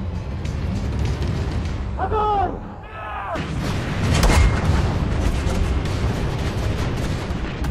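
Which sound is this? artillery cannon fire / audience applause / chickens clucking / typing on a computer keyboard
artillery cannon fire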